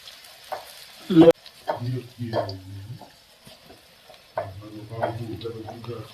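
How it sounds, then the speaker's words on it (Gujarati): Bhajiya fritters sizzle in hot oil in a pan while a person talks over it, with a brief clatter near the start. "જો આ રીતે ભજીયા તળે છે"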